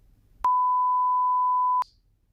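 A single steady censor beep, a pure tone lasting a little over a second, starts and stops abruptly, loud and alone.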